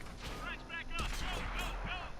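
Tank cannon shots sound in the World of Tanks video game, including a T29 with a 105, as a sharp blast near the midpoint among game effects, with speech-like sound mixed in.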